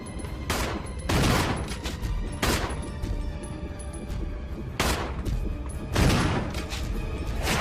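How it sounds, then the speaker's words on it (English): Shotgun blasts in the Resident Evil HD Remaster video game, about six loud booming shots spaced roughly a second apart over a steady background drone. "Shotgun time."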